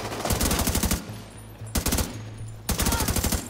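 Automatic weapon fire in the game The Division 2, three rapid bursts of rattling shots with short pauses between them, loud and close.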